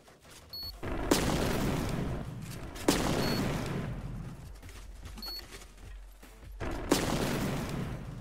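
Gunfire in the Military Tycoon video game: three sharp, loud shots spaced a couple of seconds apart, each followed by a dense rumbling tail, over a continuous background of game noise.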